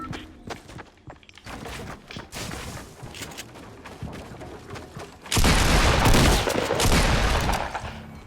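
Gunfire in the video game Fortnite, played on console: scattered shots and impacts under busy game noise, then a loud, dense burst of rapid fire and explosions filling the last few seconds.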